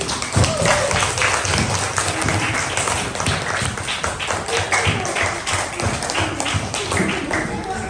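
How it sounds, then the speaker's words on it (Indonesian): Schoolchildren clap their hands together in a classroom, loud close clapping with irregular sharp slaps over several seconds and some voices mixed in. "Benar ya, kasih tepuk tangan dulu."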